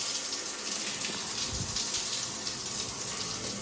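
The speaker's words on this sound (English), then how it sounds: "Let's find out if we've got hot water. Oh yeah, hot water." Hot water runs steadily from a tap in a very clean park campground bathroom, a close, continuous broadband rush of flowing water with no talking.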